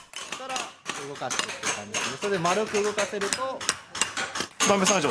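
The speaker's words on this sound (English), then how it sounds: "In the next room are others hammering copper plates." Rapid metallic tapping and clinking of hammers on copper plates in a Tsubame Sanjo workshop, Japan, irregular and busy, mixed with people talking over it.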